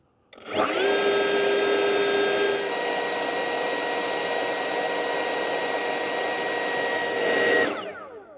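An ECHO 56V battery-powered backpack leaf blower spins up and runs at a steady, loud whirring whine from a few feet away, then winds down at the end.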